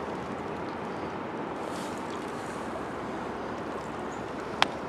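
The Eagle River flowing in winter, a steady wash of moving water with some wind noise on the microphone, even and continuous, with one brief click near the end.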